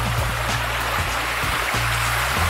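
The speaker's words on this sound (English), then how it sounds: "Little waterfall there." A small waterfall in a forest splashes steadily, a continuous broadband rush of falling water heard nearby with no voices.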